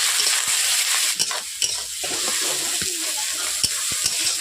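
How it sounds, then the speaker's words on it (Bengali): Onions and green chillies with black cumin seeds fry in a pan, a steady close sizzle broken by repeated sharp clicks and scrapes of a spatula stirring. "পেঁয়াজগুলো যতক্ষণ না পর্যন্ত ব্রাউন কালার আসছে ততক্ষণ পর্যন্ত আমি নাড়তেই থাকবো"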